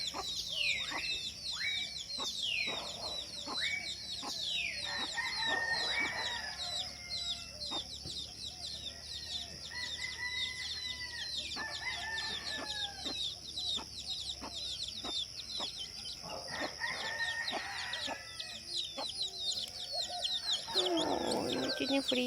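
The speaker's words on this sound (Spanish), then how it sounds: "Ya la mamá gallina ya se despertó también. Y ya ven aquí con sus pollitos." A mother hen clucks with her chicks at dawn in the countryside, with soft repeated clucks, high peeping chicks and occasional rooster crows and other birds close by.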